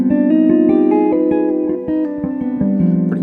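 Close, bright guitar artificial harp harmonics cascade through a G Phrygian dominant scale, with rapid chiming notes ringing into one another in a smooth, flowing run.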